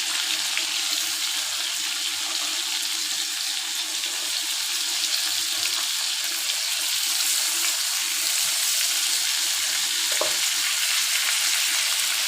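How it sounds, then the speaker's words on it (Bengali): Fish pieces frying in oil in a home kitchen, making a loud, steady, unbroken hissing sizzle close up for the whole stretch, with only a faint stray clink and no talking. "মাছ ভাজা হয়ে গেছে"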